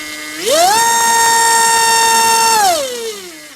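Drone motor of 2205 size and 2600Kv spinning a Dow 5045 propeller on a test stand, a loud tonal whine that rises sharply in pitch, holds steady for about two seconds, then winds down, with no talk.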